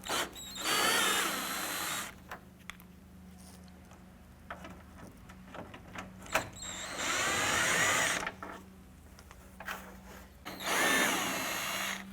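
Power drill with a number 7 socket removing screws from a 1994-2004 Chevy S10 grille area, three short whirring bursts separated by quieter handling noises, close by.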